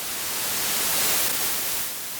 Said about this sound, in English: white noise, which is like a hiss,